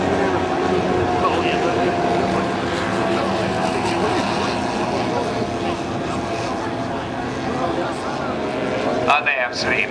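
Model World War I aeroplanes, including a German triplane, drone at a model airshow, a steady buzzing engine hum under near-constant talk from a commentator, with a brief pitch sweep near the end.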